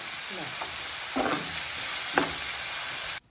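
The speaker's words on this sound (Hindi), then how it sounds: "बस 2 मिनट के लिए मैं इसको फ्राई करूँगी, तो उसमें मैं ये ना 2 अंडे ऐड कर दूँगी।" Eggs frying in a pan, a steady sizzle throughout with a few scraping stir strokes, close and fairly loud, ending abruptly near the end.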